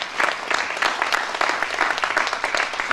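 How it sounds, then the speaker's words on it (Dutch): Audience applause fills a room at a 55th anniversary party of a carnival club, dense steady clapping throughout, loud and close with no pauses. "we als eerste denken een applaus voor onszelf mogen geven"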